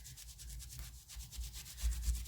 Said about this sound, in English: I might as well just give this a wipe while we're waiting.